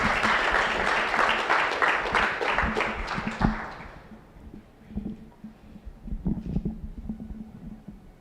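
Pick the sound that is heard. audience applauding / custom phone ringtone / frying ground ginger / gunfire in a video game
audience applauding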